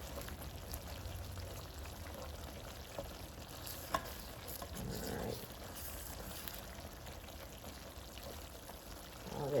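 Onions, garlic, spinach and chicken cook down in a pan for Tuscan chicken thighs, giving a steady low sizzle with occasional stirring scrapes, fairly faint and close throughout.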